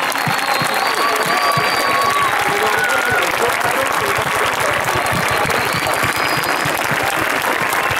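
An outdoor folk festival crowd in Colombia claps loudly and continuously, a dense, even roar of applause with faint voices mixed in.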